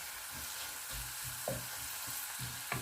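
Garlic browning in butter in a pan, a steady soft sizzle with a few small pops and stirring scrapes, close and quiet with no talking.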